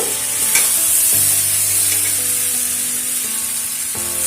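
Fried potatoes with spices are stirred in a pan, giving a loud, steady sizzle close by, with a few spoon scrapes and a low background hum.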